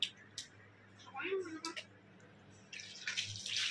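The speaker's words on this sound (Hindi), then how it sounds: "हम लोग हाथ धो के आ जाते हैं, चलो हाथ साफ करने के लिए चलो।" Tap water runs in short, faint splashing bursts as hands are washed at a home sink, with soft household voices talking throughout.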